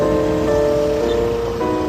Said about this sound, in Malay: Hujan teruk.